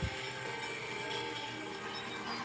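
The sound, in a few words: toy Christmas train running on its track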